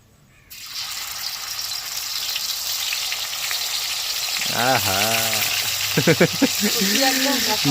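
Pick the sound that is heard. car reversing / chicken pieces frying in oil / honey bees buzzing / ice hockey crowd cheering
chicken pieces frying in oil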